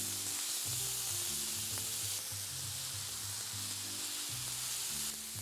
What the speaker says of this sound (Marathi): छोटासा कांदा घेतलाय मी बारीक चिरलेला, तो आपण घालूया। हे चांगलं सगळं परतून घेऊ।